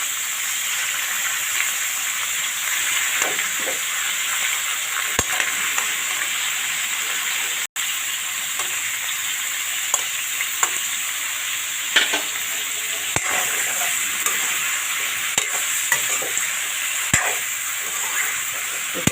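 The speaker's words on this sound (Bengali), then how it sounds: "ভাজার মধ্যে ঘি দিয়ে দিলাম ফুলকপিগুলো" Cauliflower florets frying in ghee in a pan for a potato-cauliflower curry give a steady, close sizzle and hiss, broken by occasional sharp clicks and scrapes of stirring.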